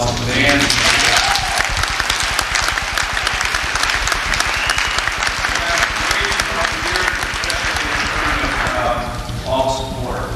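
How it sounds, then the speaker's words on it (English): A crowd at a high school class of 2003 gathering gives a band a round of applause, a rapid, sustained clatter of many hands for about ten seconds, with voices rising near the end. "give the round of applause to the band."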